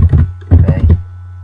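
Several short runs of keystrokes on a computer keyboard enter a website address. The clicks come in quick clustered bursts over a steady low hum, with a brief pause between groups.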